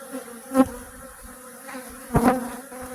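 Honey bees buzzing densely at a hive during relocation to new bee boxes, a constant close drone with a couple of louder passes near the microphone.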